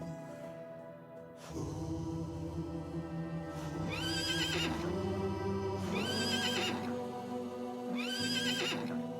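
Wild horses in Letea Forest in Romania's Danube Delta neigh and whinny three times in close succession, each call loud and nearby, with a steady low rumble and faint hoof clip-clop underneath.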